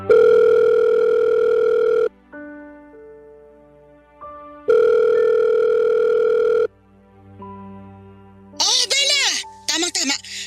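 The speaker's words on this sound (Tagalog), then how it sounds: "Tatawagan ko lang si Mama." A telephone call to a mother rings out on the line, heard as two long, loud buzzing ring tones separated by quiet gaps and softer tones, followed by brief voices near the end.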